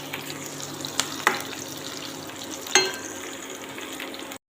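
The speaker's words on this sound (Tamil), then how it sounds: "நல்லா வெங்காயம் நல்லா வறுந்து வரணும்." Onions with curry leaves fry in a pan for a chicken gravy, giving a steady soft sizzle broken by a few clinks of a spoon against the pan.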